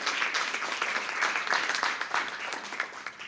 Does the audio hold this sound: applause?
yes